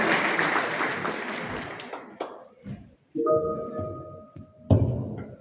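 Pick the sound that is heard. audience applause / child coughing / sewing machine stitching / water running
audience applause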